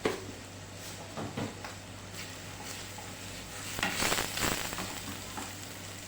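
Onions fry in a spoonful of oil with a sprinkle of salt in a pan, giving a soft, steady sizzle broken by occasional stirring scrapes and light clinks.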